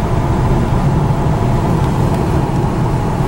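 Steady, loud road and engine drone from inside a Mercedes-Benz cruising on Distronic Plus adaptive cruise control in stop-and-go traffic, an even low rumble with no talking.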